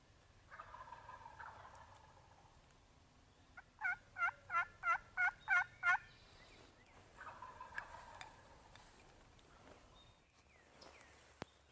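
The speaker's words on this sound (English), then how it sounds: "the weather was better and the gobblers were fired up on the roost" Wild turkey gobblers sounding off from a roost in cedar trees, a rapid rattling gobble of about seven bursts between softer calls, fairly distant and quiet in an otherwise calm outdoor setting.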